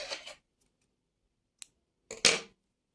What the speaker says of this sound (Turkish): bir zincir çektim ve ipimi kesiyorum